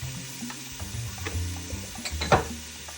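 Chopped onion with a sprinkle of salt softening in a pan, a low steady sizzle with a few scraping stirs and a brief louder clatter near the end, close by, no voices.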